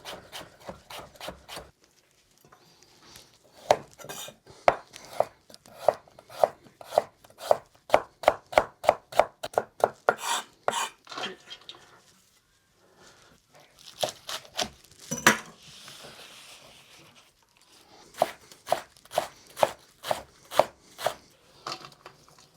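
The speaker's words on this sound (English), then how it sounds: "We're going to just slice it down into very fine matchsticks" A knife slices spring onion, carrots and radish into fine matchsticks on a cutting board, rapid rhythmic chopping in bursts separated by short pauses, close and crisp.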